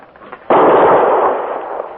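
A single loud Springfield rifle shot in a radio drama, a sharp close blast that cuts in suddenly and then decays slowly into a long rumbling tail.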